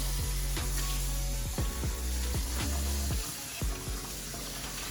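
Tap water runs steadily while Pyrex bowls are rinsed in a kitchen sink, with clinks and knocks of glass breaking up the stream before it cuts off near the end.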